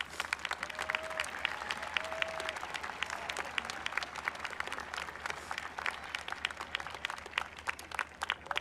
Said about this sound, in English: give a round of applause to all of our educators here today